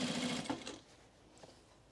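A sewing machine stitching fabric for a button-up shirt runs in a quick, close whirring burst of needle strokes, then stops and leaves a quiet room with a faint tap.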